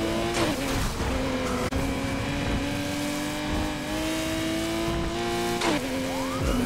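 A Ferrari Testarossa pursued in a police chase in the racing game NFS Heat, with loud, continuous engine drone that shifts pitch through gear changes and brief tire squeals.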